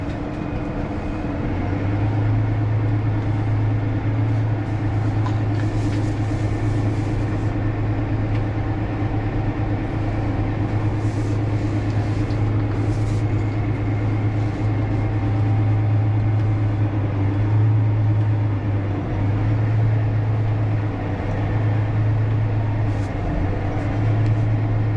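A Deutz Fahr 6-series tractor pulls forward in gear, its engine a steady, loud, continuous low drone with a constant mechanical hum throughout and no voices.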